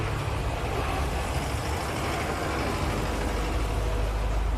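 A neighbour's tractor engine runs steadily nearby, a continuous low rumble with broad mechanical noise and no pauses or voices.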